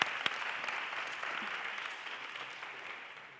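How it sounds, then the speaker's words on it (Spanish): An audience at a conference in Mérida applauds in a steady, even wash of clapping that stays level and slowly thins toward the end. "aplauso para Alberto Reverón que hizo este maravilloso diseño"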